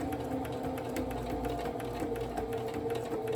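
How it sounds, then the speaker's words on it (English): A sewing machine stitches leaf vein details onto a fabric appliqué banner, producing a continuous, even mechanical whir with a rapid needle rhythm, close and fairly loud, with no talking. "I'm going to start at the top. I'm going to start stitching down."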